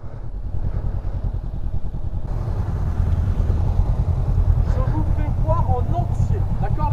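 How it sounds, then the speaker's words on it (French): On a motorcycle training course, a motorbike engine runs steadily and revs in a continuous drone as the rider does an emergency braking exercise, with people talking over it. "Et là il y a le freinage d'urgence."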